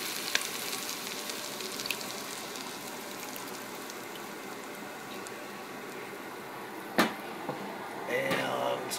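Heavy cream going into a hot pan for Alfredo sauce, a continuous soft sizzle and crackle with a couple of sharper clinks of utensils, no voices.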